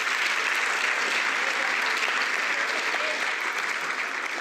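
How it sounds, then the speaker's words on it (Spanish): An audience applauds panelists at the close of a formal panel session, dense sustained clapping filling the room at even strength for several seconds. "Les pido un fuerte aplauso para ellos."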